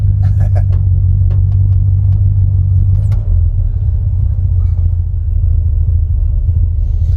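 A 1956 VW Airstream's engine drones loudly and steadily on a drive, a heavy low rumble throughout with faint brief voices and clicks early on.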